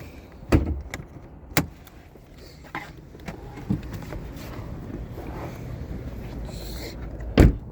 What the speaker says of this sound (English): Let's pop the hood.